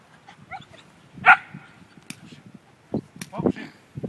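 A dog barks a few times during a ring-sport training session outdoors, short yips and barks scattered over about four seconds, mixed with a handler's voice giving commands nearby.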